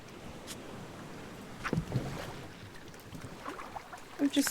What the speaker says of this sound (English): we're getting in this boat